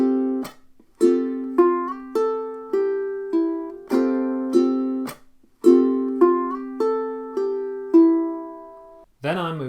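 Ukulele chords strummed in a down, up, chuck, up pattern, with index-finger barre shapes sliding between positions. Bright repeated strums with crisp muted chucks pulse steadily and alone for about ten seconds, ending in a brief scratchy noise.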